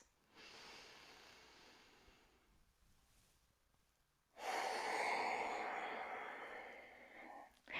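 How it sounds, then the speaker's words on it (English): Long, slow nasal breathing during a flowing yoga practice: a soft extended inhale, a pause, then a louder, rushing breath through the nose, close and alone with no talk. "taking nice long inhales and exhales through our nose"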